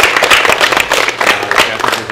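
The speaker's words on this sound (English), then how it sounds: "Let's get a round of applause." Audience clapping for guests at a talk, a loud burst of handclaps filling the short clip without pause.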